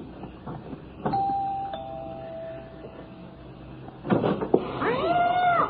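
A cat meows near a household door that creaks and bumps, with a sustained tone and then a rising, drawn-out yowl toward the end, set in an old radio drama.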